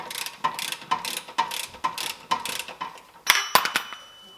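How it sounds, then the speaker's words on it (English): A ratchet clicks in a steady rhythm while loosening the bolt that holds the strut on a VW T5 van, close up, finishing with a few sharper metallic clacks. "Now we're going to loosen off the bolt that's holding the strut to this part of the van."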